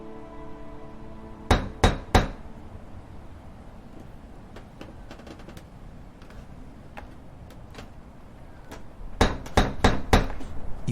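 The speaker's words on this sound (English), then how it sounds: "Maybe she just didn't hear the knocker." Three sharp metallic raps of a door knocker on a front door, followed after a quiet pause by a second, quicker set of knocks, fairly close against a soft background hiss.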